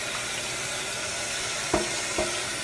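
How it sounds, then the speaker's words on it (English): Water runs steadily from a kitchen tap as vegetables and a knife are rinsed beneath it, a constant close broadband rush with a couple of soft knocks near the end. "Okay, give those a good rinse. Give our knife a quick rinse here."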